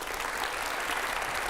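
Audience applause at a televised interview event with a religious guru, a dense steady patter of clapping heard at moderate distance throughout the short stretch, without speech.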